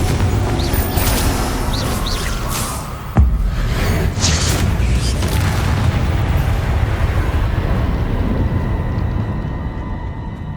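Loud, dense rumbling game combat from Hogwarts Legacy, with a sharp blast near the three-second mark as the Confringo explosive spell lands, followed by continuous heavy booming and magical crackle throughout, no talking.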